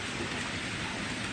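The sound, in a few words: rain falling outside in a back garden in Japan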